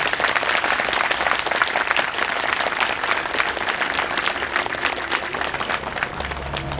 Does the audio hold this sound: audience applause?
yes